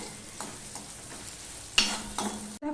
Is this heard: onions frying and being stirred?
yes